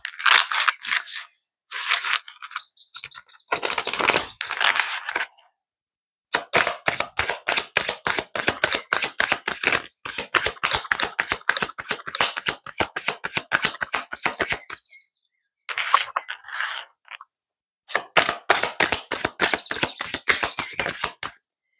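Mirror oracle cards are shuffled by hand in rapid, crisp riffling bursts, close and clear, with brief pauses between runs of fast repeated flicks.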